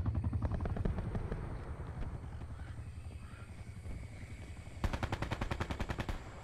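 Daemon 3XB submachine gun in Black Ops 4 firing in rapid, tightly spaced bursts, a steady rattling stream of shots up front that thins, then a sharp, louder burst near the end.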